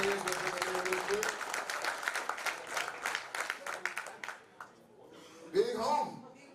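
A group at a youth football media day claps and cheers, scattered claps mixed with loud overlapping voices, the noise tapering off before a brief burst of talk near the end.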